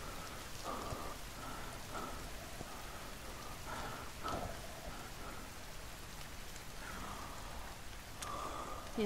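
Rain falling in the survival video game The Forest, an even hiss of drops with faint tonal game sounds now and then, low in level and without speech.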